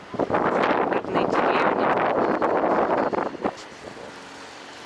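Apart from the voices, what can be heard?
wind blowing on the microphone at Kaliningrad fishing village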